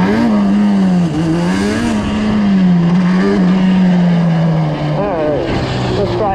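A Yamaha Banshee ATV accelerates in third gear, its two-stroke engine droning loudly and close with a wavering pitch that holds steady, then shifts and rises again near the end.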